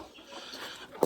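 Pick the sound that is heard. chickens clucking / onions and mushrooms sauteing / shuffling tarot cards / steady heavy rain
chickens clucking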